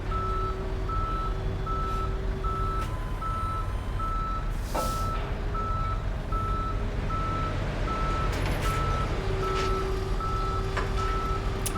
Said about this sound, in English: Alright, but here comes a tow truck.